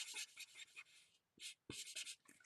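Pen nib scratching across paper while coloring in a stamped squirrel image for a card, a close, quiet series of short strokes in bursts with brief pauses between them.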